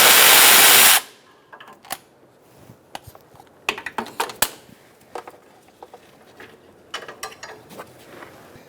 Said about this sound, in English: we're going to use a 10 millimeter socket to remove those